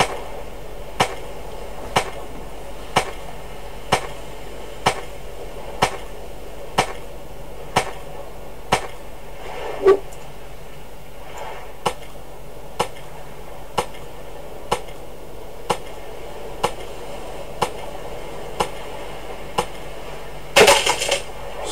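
An axe chops driftwood in the survival video game Stranded Deep, sharp evenly spaced thwacks about one per second, more than twenty in a row, with a louder clatter near the end.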